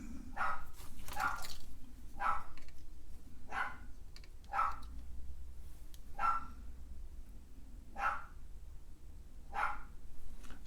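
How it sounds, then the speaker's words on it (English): Dogs barking in short separate barks spaced through the clip, somewhat distant and faint over a low background hum, with no voices. "What are they barking at?"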